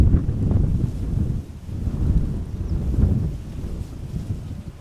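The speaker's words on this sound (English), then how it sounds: "The wind is still blowing here." Wind gusting outdoors at Schiphol Airport, a low buffeting rumble against the microphone that swells and eases in waves, close and fairly loud.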